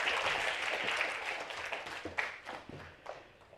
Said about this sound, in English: please join me to give another big round of applause to Professor Mates